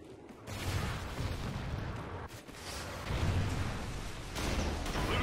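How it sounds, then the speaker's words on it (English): Trinity rocket strike explosions in Call of Duty: Ghosts rumble as a dense wash of booms and gunfire, fairly faint and continuous with brief dips between blasts. "Friendly Trinity rocket inbound."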